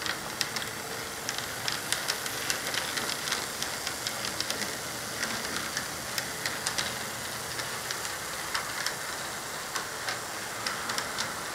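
A model train rolls past a trackside signal, giving a steady stream of fine metallic ticks and light clicks from wheels on rail joints under a constant background hiss, with no talking.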